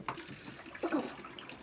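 Water runs from a tap in short, quiet splashes, with a brief gurgle midway and no talking.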